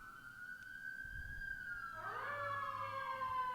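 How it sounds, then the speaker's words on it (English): An emergency vehicle siren passes outside, a faint wailing tone that rises and then splits and bends in pitch as it goes by, with no talk over it. "Oh, there's sirens."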